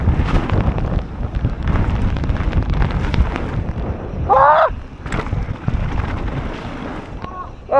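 Strong wind on a wet day buffets the microphone in a continuous, loud, rumbling roar that swells and gusts throughout, with a brief voice-like sound partway through.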